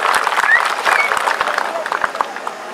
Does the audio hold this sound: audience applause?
yes